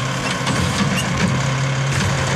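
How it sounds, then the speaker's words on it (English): A garbage truck's engine idles nearby with a steady low rumble and a sustained drone, all the way through, with wind noise on a cold, blustery day and no one speaking. "So this is the garbage truck."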